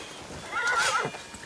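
A horse neighs once in the video game Crimson Desert, a clear, fairly close whinny lasting about half a second, with faint hoof clip-clop around it.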